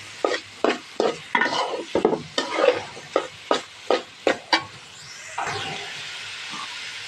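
Cabbage and fried rice ingredients are stirred in a pan in about ten quick rhythmic scrapes under a soft sizzle, after which the frying settles into a steady hiss.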